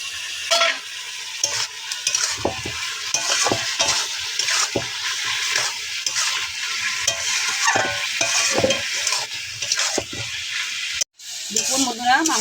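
Meat sizzles in a pan with liver added, under a constant frying hiss broken by repeated scraping and clanking strokes of a stirring spoon, close and fairly loud.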